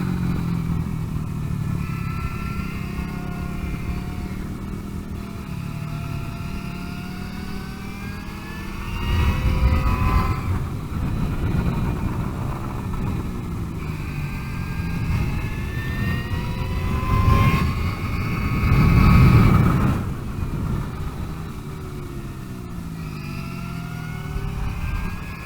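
A Greenger G3S electric trackbike whines through repeated accelerations while warming up its tires, a rising and falling electric motor tone with tire and road roar that swells and fades as it passes, continuous over the whole stretch.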